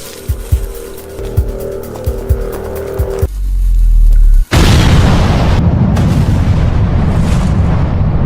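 A dynamite blast erupts after a sequence of sharp knocks, a deep booming explosion followed by a long roaring, crackling rumble that fills the remaining seconds, loud and close.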